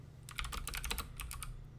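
Fingers type quickly on a computer keyboard, a short burst of about a dozen crisp, closely spaced key clicks heard near and alone over a low electrical hum.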